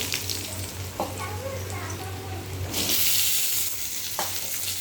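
Small diced potatoes fry in a pan with a continuous close sizzle, a few stirring scrapes, and a sudden louder hiss as more hits the hot oil.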